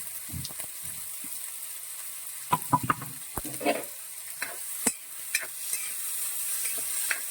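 Sliced bitter gourd and onion stir-fry in a pan, a soft steady sizzle broken by sharp scrapes and clicks of a spatula at irregular intervals, close and fairly quiet with no talking.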